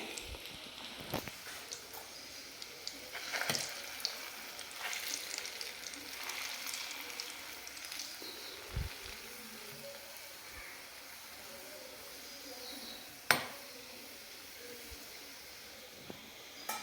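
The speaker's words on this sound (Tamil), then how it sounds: "இதே மாதிரி இது எல்லாமே பொறிச்சு எடுத்துகிட்டு காட்டுறேன் உங்களுக்கு" Gulab jamun made from health-mix flour fry in hot oil, giving a faint, steady sizzle with occasional sharp crackles and pops, quiet and continuous with no voices.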